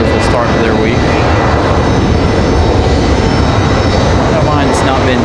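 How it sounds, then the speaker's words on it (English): An American Airlines Airbus A321 jet taking off at Raleigh-Durham International Airport, with a loud, steady, broadband engine roar that fills the whole stretch. A voice talks over it. "It's our A321 for American Airlines rolls"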